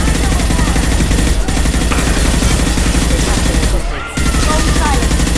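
Dense, continuous gunfire in the video game Mass Effect 2, loud rapid shots layered over one another with a brief dip near the end, voices faintly mixed in.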